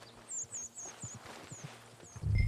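Horse walking at a slow clip-clop in Red Dead Redemption 2, soft hoof thuds spaced irregularly at moderate distance, with high bird chirps overhead and a louder rumble at the end.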